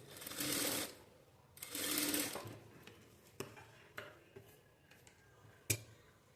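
A sewing machine stitches blouse fabric in two short bursts of rapid running. Sharp clicks and handling taps follow, all close and fairly quiet, with no talk.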